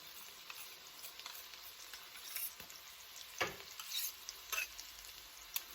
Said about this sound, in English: And then I'm going to put my garlic in.